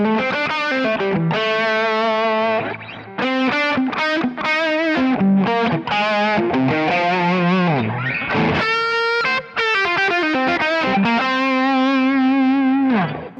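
Electric guitar played through a Kemper profile of a 4-watt Marshall JCM amp, a loud, continuous distorted riff of chords and sustained notes with brief pauses and a bright, saturated tone.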